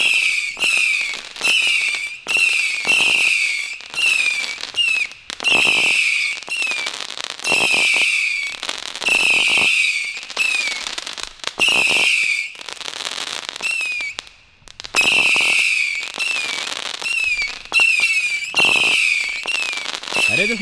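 A 500-shot fireworks cake set off in the evening fires a long rapid sequence of whistling launches and crackling bursts, loud and close, with brief pauses between volleys.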